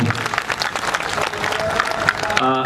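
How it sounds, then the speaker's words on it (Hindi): Applause from a crowd at a political rally at Jantar Mantar in Delhi, with dense steady clapping running close and loud for nearly three seconds, mixed with scattered voices and a tonal sound near the end. "और जोरदार तालियों का स्वागत"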